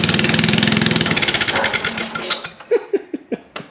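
The small engine of a homemade leaf blower, running off its carburetor, chugs in a fast, loud rhythmic putter up close, then falters and sputters out with a handful of separate pops.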